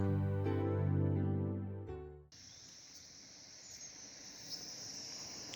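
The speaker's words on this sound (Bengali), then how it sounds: "দিনের বেলাতেও ঝিঝি পোকার ডাক" Crickets chirp in a daytime pine and fern forest at Rishop, a steady high-pitched insect drone that takes over after a few seconds of tonal music, continuing alone and fairly faint.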